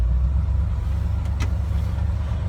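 The engine of a Holden truck with a manual choke idles close by with a steady, loud low rumble, warm from a recent run, with no talk.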